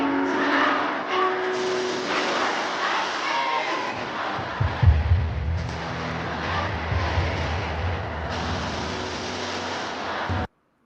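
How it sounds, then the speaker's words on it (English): A large crowd roaring in a football stadium during a rap concert, a broad, loud and sustained wash of cheering with swells and a few deeper rumbles, ending abruptly. "Look at this crowd, bro."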